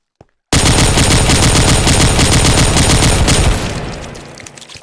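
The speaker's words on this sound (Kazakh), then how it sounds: "Бұрында зомбиларға 1-2 оқ атсаң өліп қалады" Loud, rapid automatic gunfire from shooting zombies in a Minecraft zombie apocalypse game, a dense continuous burst after a brief click, then fading toward the end.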